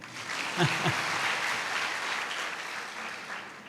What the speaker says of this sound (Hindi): हाँ, बजा सकते हैं तालियां।